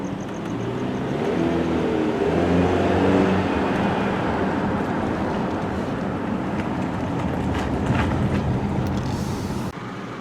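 The engine of a 2020 Jeep Compass Limited 4x4 idles with a steady, low, even rumble from close by. It holds unchanged throughout, with a slight shift just before the end.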